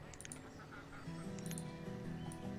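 Ducks in the colonial village-building game Banished, faint quacking and honking calls repeating irregularly at a distance over a soft tonal background.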